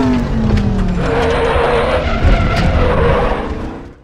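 A Chevrolet Dekon Monza in RaceRoom understeers at Zolder, and its tires squeal loudly and continuously over a harsh engine roar, with the screech holding for several seconds before fading at the end.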